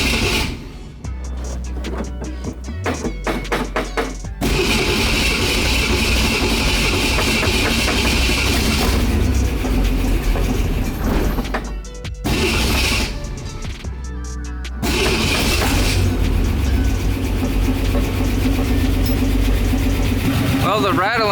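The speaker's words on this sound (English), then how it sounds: "you can hear that because it's one side on the open exhaust" A 1965 Ford Mustang engine with one side on open exhaust runs loud and close, idling and revving with brief drops in between, while people talk over it.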